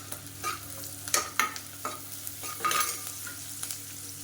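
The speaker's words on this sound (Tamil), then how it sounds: "இதை நல்லா வதக்கிக்கலாம்." Green chillies sautéing in a pan for a kodo millet (varagu rice) dish, with a soft continuous sizzle broken by irregular scraping stirs of a spoon against the pan, close and moderately quiet, no voices.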